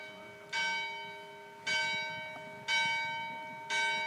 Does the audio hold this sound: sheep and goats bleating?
no